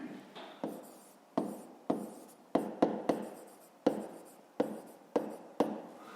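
Pen strokes on paper while a maths solution for a fifth-grade percentage problem is written out, a series of short scratchy bursts with brief pauses between them, close and fairly quiet, with no talking.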